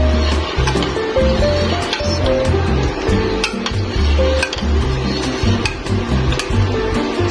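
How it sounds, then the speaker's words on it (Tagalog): Macaroni pasta simmering in chicken broth for sopas in a pot on a home stove, with steady bubbling, soft stirring and occasional clinks of a utensil against the pot throughout. "nilalaga na po natin dito yung ating macaroni pasta"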